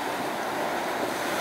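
Strong wind roars steadily across open sea, with waves surging around a small barge of a few dozen tonnes out on the water, a dense, continuous wash of noise with no voices.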